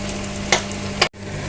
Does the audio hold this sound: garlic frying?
yes